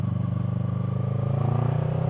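A motorcycle engine revs up hard near the microphone, a steady harmonic drone climbing in pitch and loudness across about two seconds with no voices over it.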